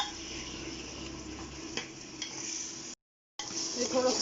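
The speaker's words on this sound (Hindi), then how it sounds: "अब हम इसमें डालेंगे टमाटर। इसको भी अच्छी तरह पकाएंगे।" Tomatoes cooking in a pot for Kashmiri-style mutton korma, giving a steady low sizzle with occasional stirring scrapes and clinks of a utensil, broken by a brief silent gap.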